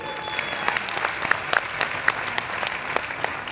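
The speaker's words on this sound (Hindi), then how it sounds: "अपने लिए नहीं, उनके लिए ताली बजाई दीजिए" A large crowd at a Modicare company event in Kolkata applauds the company's check earners, a steady wash of many hands clapping at close range with sharp individual claps standing out, continuing without pause.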